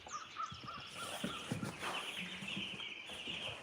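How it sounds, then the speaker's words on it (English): Chicks in a brooder on a chicken farm chirp and peep in a steady, busy chorus at moderate distance, continuous throughout without talk. "let's go check on the little chickies out here in the brooder"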